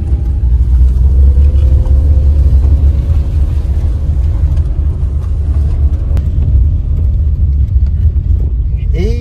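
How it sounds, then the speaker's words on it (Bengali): A car moving slowly along a wet road on a road trip toward Sangetsar Lake in Arunachal, giving a steady low engine and tyre rumble throughout, with a faint whine above it and a voice talking over it. "আস্তে আস্তে গাড়ি চালাচ্ছি, একটু সাবধানে।"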